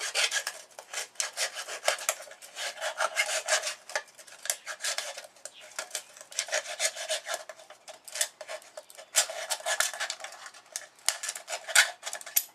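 An aluminum drink can being cut to make an alcohol stove, with rapid, repeated scraping snips and crinkling metal in close, uneven bursts that carry on steadily and loudly.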